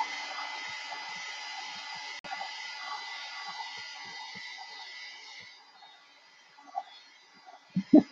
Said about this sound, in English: So take your hair dryer, heat gun, whatever you have, or wave the paper around and dry it.